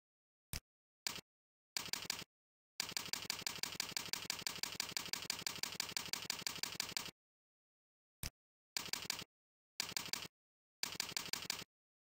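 Keys clatter on a computer keyboard as recipe ingredients are typed in, quick bursts of rapid clicking separated by silent pauses, close and clear with no voices.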